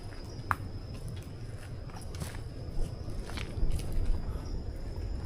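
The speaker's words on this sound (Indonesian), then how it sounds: "Kayak ada langkah kaki, jelas banget loh" Footsteps crunching through dry bamboo leaves at night in Alas Purwo forest, Banyuwangi, faint and irregular, a few steps scattered under a steady background hiss of insects and night ambience.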